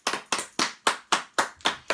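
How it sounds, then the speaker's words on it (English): Eight regular sharp claps ring out in a steady rhythm, close and clear, like one person clapping rather than a crowd. "Beth, round of applause."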